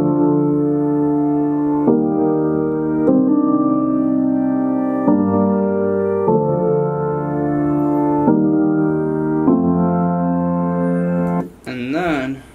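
Serum synth preset named Baseball playing in a beat: loud sustained harmonic chords change every second or two in a steady progression, ending with a brief warbling, pitch-wobbling tail.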